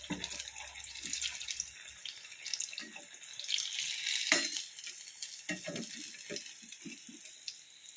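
Batter-dipped pumpkin slices fry in hot oil with a soft, steady crackling sizzle, punctuated by occasional clinks and stirring, fairly quiet and close.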